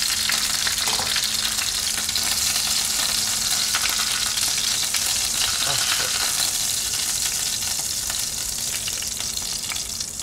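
Chicken pieces sizzle steadily in a hot pan for chicken cacciatore, a dense, even crackle of frying fat that holds loud and close throughout with no talk.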